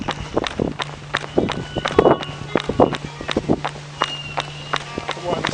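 Quick rhythmic footfalls of a person running outdoors into the wind in Victoria, BC, Canada, close and evenly paced with a steady low hum underneath, while a voice speaks over the steps.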